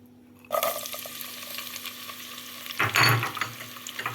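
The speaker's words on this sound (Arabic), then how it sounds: "معانا هنا حطيت زيت واحط البصل" Onion hits hot oil in a pan and starts frying, a sudden burst of sizzling that settles into a steady hiss, followed by a second louder crackling surge partway through.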